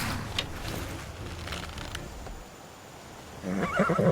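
A horse whinnies in Skyrim during a bandit chase, a clear high neigh with a shaking, fluttering tail near the end, over low game ambience and scattered in-game sounds.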